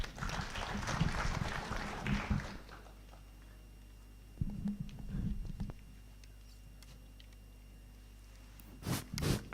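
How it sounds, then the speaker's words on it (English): Brief bursts of audience applause for a professor at a GIS and Earth observation symposium, a dense patter of hands in a hall that fades into quiet room tone before another short burst. "Let's have once more applause for the Professor."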